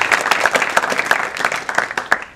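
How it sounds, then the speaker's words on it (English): An audience at a spiritual talk on life gives a burst of dense, lively applause, with many hands clapping close and loud at a steady rate that fades slightly at the end. "you need to applaud yourself and congratulate that you spent your time well"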